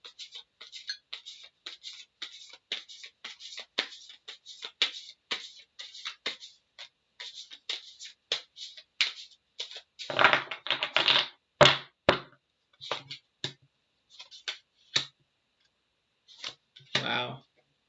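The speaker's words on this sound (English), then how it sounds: "it's so hard to shuffle." A tarot card deck is shuffled in quick rapid riffles of crisp card clicks and taps, close up, in bursts with short pauses and a denser flurry near the end.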